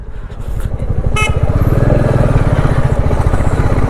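A motorcycle engine idles and revs on a mountain road toward Darjeeling, a loud, close, steady throbbing pulse with a short horn-like toot partway through.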